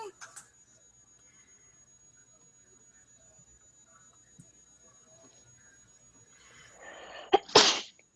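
A single sharp sneeze bursts out near the end of a quiet stretch in a classroom, preceded by a short inhale, with faint background noise and a steady electronic tone.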